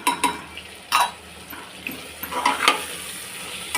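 Spices sautéing with onion and tomato in a pan, with a spoon stirring and scraping in irregular bursts over a soft sizzle, close and fairly loud, no voices.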